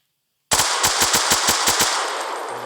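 Automatic bursts from an M240 machine gun in a Minecraft PE gun mod: a loud, rapid string of about eight shots beginning abruptly after half a second of silence, then a lingering ring-out as the volley ends.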